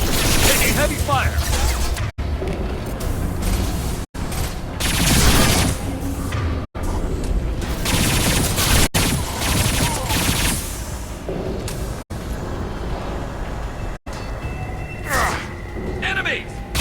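Heavy gunfire in Mass Effect 2 during a mech fight, a dense, loud, continuous clatter of shots and mechanical noise mixed with game effects, with voices talking over it throughout.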